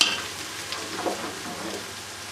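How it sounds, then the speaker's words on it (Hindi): Ginger and garlic fry with onions in a pan, giving a soft, steady sizzle close by with faint stirring movements through the brief moment. "अच्छे तरीके से फ्राई करेंगे।"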